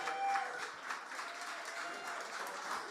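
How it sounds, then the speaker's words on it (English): Faint, steady applause from the audience at a startup investment summit in Manitoba, a soft continuous wash of clapping heard from a distance. "Give yourselves a big round of applause."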